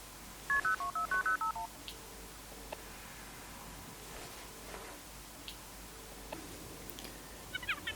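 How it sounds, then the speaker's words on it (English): A phone dials out with a quick run of about eight electronic keypad tones near the start, followed by quiet room noise and a few faint beeps at the end. "Okay, phone. Ring, Paul."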